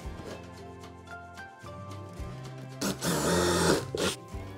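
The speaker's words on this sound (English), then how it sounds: "I only drilled halfway through, then I flipped it over and did the same to the other side" Power drill boring partway into wood to make a crate handle, a steady whirring motor close up that rises into a louder, rougher grinding burst near the end.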